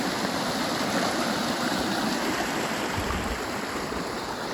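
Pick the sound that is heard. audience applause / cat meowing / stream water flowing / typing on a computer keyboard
stream water flowing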